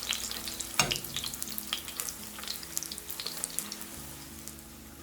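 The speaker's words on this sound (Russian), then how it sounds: "Жарим лепешки до золотистого края с одной стороны, затем перевернем и обжарим с другой." Thin, simple flatbreads fry in a skillet over above-medium heat, giving a steady, soft sizzle with a sharp clatter near the start and light crackling throughout.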